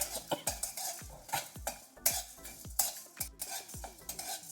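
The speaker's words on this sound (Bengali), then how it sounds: "শুকনো লঙ্কা দিয়ে দিলাম, সবগুলো দিয়ে একটু ভেজে নেব" Spices and dry red chillies fry in a hot kadai while being stirred briskly, a rapid series of close metallic scrapes and knocks over a faint sizzle.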